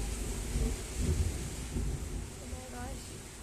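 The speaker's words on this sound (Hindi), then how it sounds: "आपको आवाज़ आ रहा होगा बिजली कड़कने का।" Low rumbling thunder with lightning rolls in soft waves beneath steady heavy rain, distant and muffled, heard from indoors by a window.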